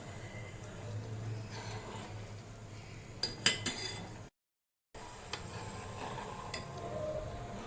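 Melted butter with a betel leaf is stirred in a pan while making homemade ghee, producing faint scattered metallic clinks and scrapes of a spoon against the pan over a low background hum, with a brief silent gap midway.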